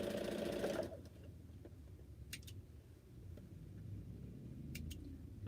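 A sewing machine chain-pieces quilt pieces with a fast, loud mechanical run at the start, then stops, leaving quiet room noise with a few soft clicks and brief sharp snips.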